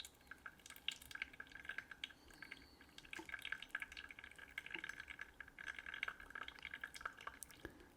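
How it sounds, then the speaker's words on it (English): A slow, thin stream of water trickles from a gooseneck kettle onto tea leaves, a soft, steady dribble with faint drips and glassy ticks, close and quiet with no talking. "you really want to have a very good gooseneck kettle that is very slow pouring."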